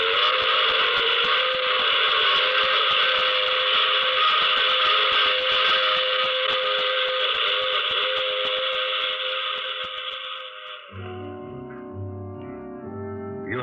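A radio drama sound effect of a passing train, a sustained blaring whistle-like chord over rumbling wheels that holds steady and then shifts lower to a clattering, receding rumble near the end.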